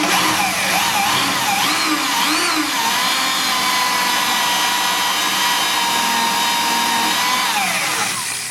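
A power drill bores steadily through a rivet on the steel frame of a 1954 Chevrolet, its loud continuous whine and grinding shifting pitch slightly as the bit bites, running alone for about eight seconds.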